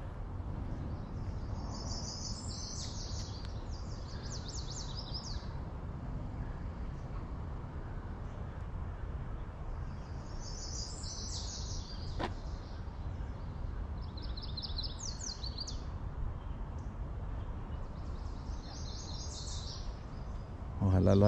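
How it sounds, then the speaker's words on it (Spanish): Small birds chirping beside the Red River, short bursts of high twittering in repeated clusters over a steady low outdoor rumble, fairly faint and with no talk. "me voy a quedar un ratito callado para que oigan a los pajaritos"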